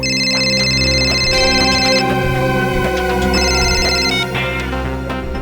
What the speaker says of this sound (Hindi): अरे किसका फोन था? काट तो दिया, उठाना चाहिए था ना।